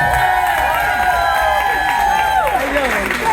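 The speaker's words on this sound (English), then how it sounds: "Give her another round of applause, please." A live crowd at a comedy show applauds and cheers for comedian Karen Robertson, a steady wash of claps with a few shouts and a loud voice ringing over the noise, holding for a few seconds before fading.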